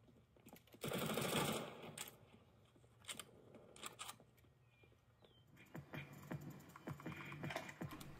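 Keyboard keys clatter in quick irregular bursts while gaming on an AYA NEO Ryzen handheld PC with a keyboard and mouse plugged in, near and fairly quiet, with a denser flurry early on.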